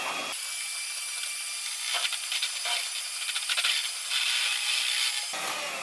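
Electric hand mixer at medium speed beating butter and eggs for chocolate chip cookies, a steady close whirring drone with rattly beater scraping that starts abruptly, swells in a few spots, and cuts off near the end, with no talking.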